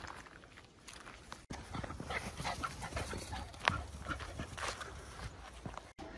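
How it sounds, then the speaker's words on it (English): A walk with several dogs outdoors, with panting, scuffling paws and footsteps close by, continuous and moderately loud, no talking. "But for now, it's a dog walk."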